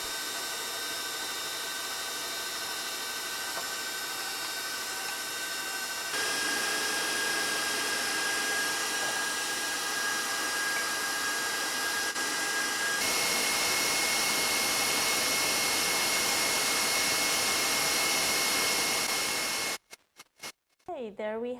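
An electric mixer whips raspberry whipping cream with powdered sugar and raspberry preserves, a steady, loud whirring drone that shifts pitch slightly twice and cuts off near the end, followed by a brief clatter.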